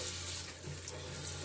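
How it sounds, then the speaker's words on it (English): An aloe vera plant in its pot is watered indoors, giving a soft, continuous trickle and splash that stays steady and faint throughout, close by, with no one speaking. "I thought I'd better give this aloe vera a drink."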